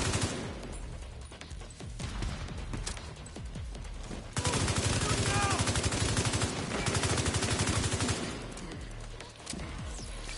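Rapid bursts of weapon fire from a frag thrown in the Descent video game, loud, dense volleys with crackling blasts running through the whole span, thickest in the middle, with little or no voice.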